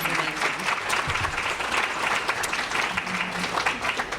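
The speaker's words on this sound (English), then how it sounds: "please give another round of applause to our esteemed panelists for this." An audience applauds panelists at a discussion on Black maternal mortality and chronic disease, steady dense clapping filling the whole stretch with a faint murmur underneath.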